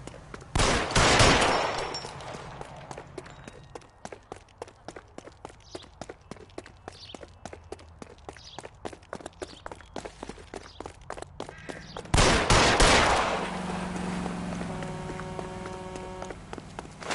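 Rapid gunfire in the detective game L.A. Noire, with loud bursts at the start and near the end around a long run of sharp, evenly spaced shots.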